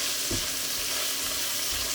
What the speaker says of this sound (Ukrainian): І ми додаємо цибулю, підсмажимо її також до рум'яності.